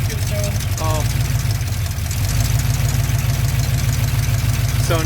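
A 1957 car engine idles with the choke partly on, a steady, loud low rumble with a regular beat throughout, and faint brief voices over it.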